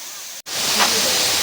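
Steady, loud rushing roar of the 66-foot Gandahati waterfall in forest at Mahendragiri, Odisha, heard close and continuous apart from a brief cut-out.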